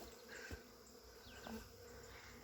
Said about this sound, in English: we've still got about 150, maybe 300 bees up there flying around